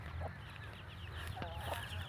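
Hens cluck softly and intermittently over a steady outdoor hum at a farm or animal camp, a few short clucks at a moderate distance with no speech.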